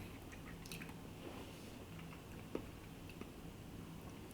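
Quiet, close biting and chewing of a crunchy Nokya cucumber, soft squishy crunches with a few sharper snaps, no talking over it.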